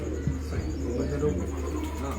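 Pigeons coo in a loft at Seth Brothers in Karachi, soft low burbling calls repeating under a steady background hum, with a voice talking nearby.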